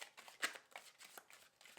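Tarot cards are shuffled in a quick run of soft riffling, papery bursts, one sharper snap near the start, heard close and alone at low volume.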